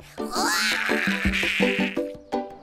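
A voice imitates a T-Rex roar with a brief, strained, buzzing cry that rises then holds, close up, ending with a few short sputters.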